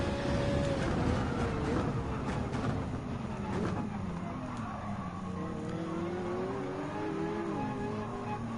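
Race car engine in the Gran Turismo 7 video game, droning and rising and falling in pitch through gear changes, with other cars nearby, continuous and fairly loud throughout.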